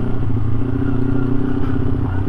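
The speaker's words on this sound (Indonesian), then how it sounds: "Bunyi motor gue peletak-peletuk, peletak-peletuk nih." A motorcycle engine clatters and rattles steadily while being ridden downhill through a forest, with a continuous loud, rough drone and no speech.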